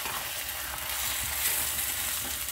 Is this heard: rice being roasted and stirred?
yes